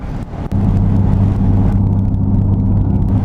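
A 1960 Ford Fairlane 500 lowrider cruises steadily at about 50 mph, a loud, continuous low engine drone and road rumble heard from inside, with one sharp knock near the start.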